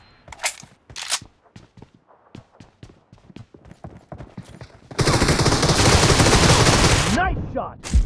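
Gunfire in the mobile shooter BGMI during a team deathmatch: scattered sharp single shots and short bursts, then a sustained dense burst of automatic fire lasting a couple of seconds, loud and close.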